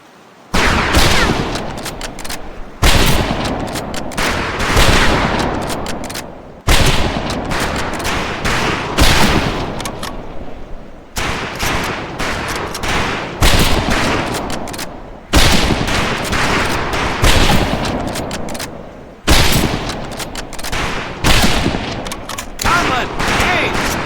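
Rifle fire at long-range targets in Medal of Honor Pacific Assault, heard as a series of loud, close bursts of rapid shots, each volley ending in a short silence before the next.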